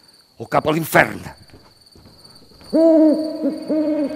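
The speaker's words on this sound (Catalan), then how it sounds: "No, és el crit del mussol." A speaking voice fades out during an outdoor reading of Macbeth, then loud, low owl hoots ring out in two sustained calls separated by a brief pause, with faint insect chirping beneath.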